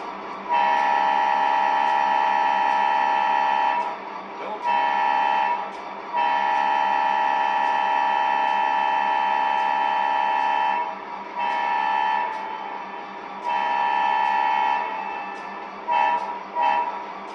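A loud, sustained electronic train horn blasts repeatedly in long and short bursts over a steady motor hum, with no talking.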